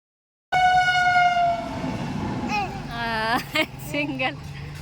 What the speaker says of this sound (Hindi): ये देखिए एक ट्रेन तो चली गई काफ़ी देर वेट करने के बाद